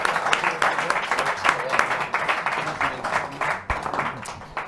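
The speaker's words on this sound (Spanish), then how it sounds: "Un aplausito." An audience at a debate breaks into lively applause, dense clapping with cheers rising and falling over a few seconds, fairly close and loud.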